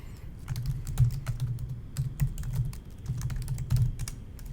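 Someone types a name into a sign-in app on a computer keyboard, producing quick, fairly close and loud key taps in short bursts with brief pauses between them, with no speech.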